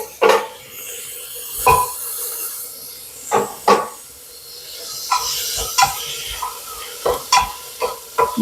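Onions with curry leaves sizzle steadily in a pan while a spoon stirs them, giving sharp scraping clatters at irregular intervals over the continuous frying hiss.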